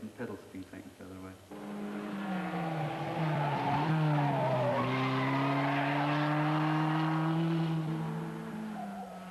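A race car driven on a track, its engine climbing to a loud sustained roar with tyre squeal, following a few seconds of quieter sound at the start.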